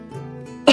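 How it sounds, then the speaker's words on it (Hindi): An old man gives a single short, harsh cough at close range, coming right after a brief low voiced murmur. "वो बूढ़ा खांसते हुए कहता है"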